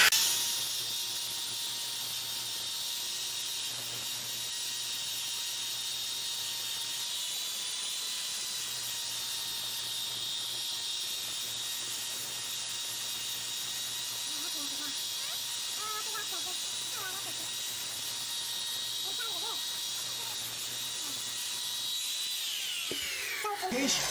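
Disc sander running steadily with 80 grit against soft carved wood, a continuous loud hiss with a faint machine hum, sustained for the whole stretch before cutting off at the end.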